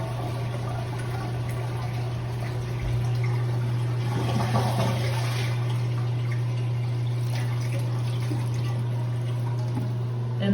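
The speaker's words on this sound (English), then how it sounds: "Next, you will flush the water down." A steady rush of water runs throughout, with a constant low hum underneath, like a toilet flushing and refilling.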